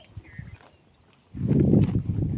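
Close, crunchy tearing and chewing of grass by a grazing cow begins partway through and continues steadily after a quieter stretch.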